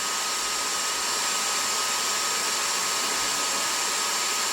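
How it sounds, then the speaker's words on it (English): A hair dryer blows continuously at close range, heating a fire-detection sensor, a steady loud whoosh with a faint whine, unchanging throughout. "We are using hair dryer to increase the temperature"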